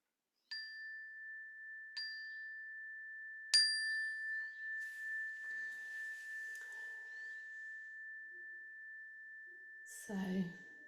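A meditation bell is struck three times at spaced intervals, each strike a clear, bright ding whose pure tone rings on and slowly fades, alone in otherwise quiet surroundings, with a faint rustle at the end.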